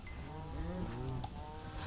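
Cattle in the video game Minecraft moo in a low, drawn-out call over a steady background hum, moderately loud with no one talking.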